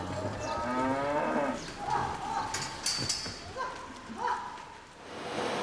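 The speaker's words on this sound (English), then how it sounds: "Just a bunch of cows on a carousel." Cows on a rotary milking carousel low repeatedly, the moos rising over a steady background of farm machinery and clatter, with faint voices in the mix.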